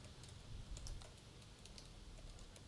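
Fingers typing on a computer keyboard, a quick run of faint, light key clicks in an uneven patter, heard alone against a quiet room hiss.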